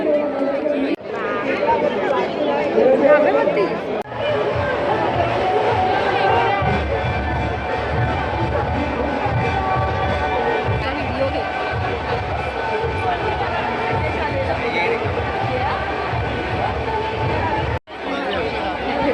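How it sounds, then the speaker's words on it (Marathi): A large crowd bustles at the Charkop Malvani fair, a continuous dense babble of many overlapping voices and movement, loud and close, with a few brief dips. "प्रचंडच गर्दी आहे या"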